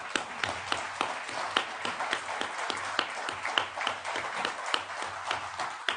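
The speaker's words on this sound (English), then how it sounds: "It means a lot to me to get at least one little bit of applause." A conference audience at a foreign affairs celebration breaks into steady applause, many hands clapping together with sharp individual claps poking through a dense, sustained patter, fairly close and with no talking over it.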